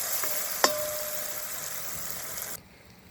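Onions sautéing in a pan for mutton rolls give off a steady, moderate sizzle with one sharp utensil clink near the start; the sizzle cuts off abruptly toward the end.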